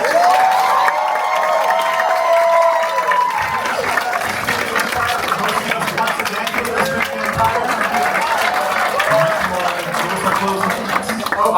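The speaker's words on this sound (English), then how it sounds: "Round of applause for our panelists." A panel audience at a Halloween horror fan convention bursts into loud applause and cheering for the panelists, with whoops and crowd noise swelling over the clapping; a few voices rise briefly at the start.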